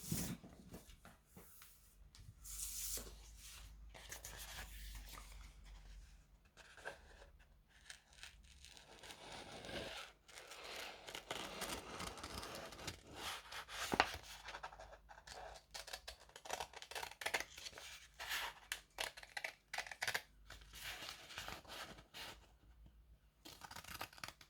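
Scissors snipping through paper or card for a Halloween craft, a quiet, irregular run of short cuts mixed with rustling and crinkling, close by and without talk.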